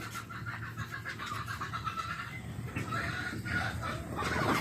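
Pet turkeys and chickens cluck and chatter in a steady, overlapping farmyard din, close and moderately loud, with no one talking over them.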